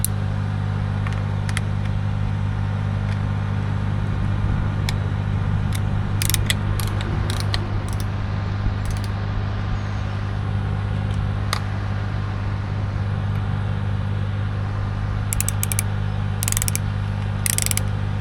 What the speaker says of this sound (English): let's tighten that chain up. Quarter turn.